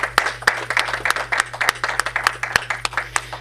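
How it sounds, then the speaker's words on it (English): Applause for Mara Ahmed after a documentary screening, a sparse, uneven round of claps from a small audience, individual hand claps distinct and fairly close over a steady low electrical hum. "Mara Ahmed deserves a thunderous round of applause"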